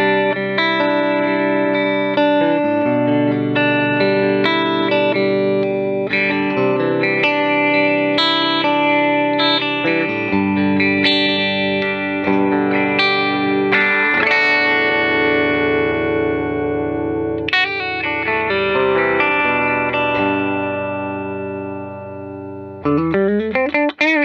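Electric guitar fitted with boutique pickups plays a loud, continuous run of chords and single notes through effects with distortion and reverb. It stays dense and sustained for about twenty seconds, then ends with a short strum.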